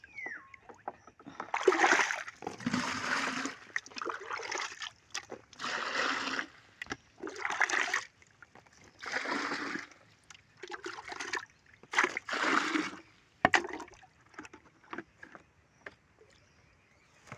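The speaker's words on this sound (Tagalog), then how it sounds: "Kuha akong tubig guys." Water scooped with a dipper from a stored supply at home and poured or splashed out in repeated bursts, close and fairly quiet, with brief pauses between scoops.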